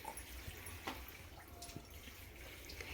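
Water poured from a glass into a pan of beetroot and chickpea curry, a steady close splashing pour with a brief louder gush partway through, and no talk.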